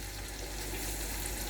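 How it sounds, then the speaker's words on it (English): Honey beans frying in a pot are stirred, giving a steady close sizzle and soft bubbling hiss without a break. "So I'm giving it a stir."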